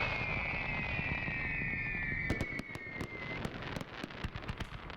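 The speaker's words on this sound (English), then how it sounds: "There was a free fireworks display at Deer Valley Park in Phoenix" Free public fireworks display at Deer Valley Park in Phoenix, heard as a run of sharp crackling bangs and pops in the back half over a steady broad rumble, with a high descending whistle before them.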